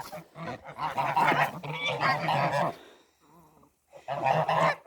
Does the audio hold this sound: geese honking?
yes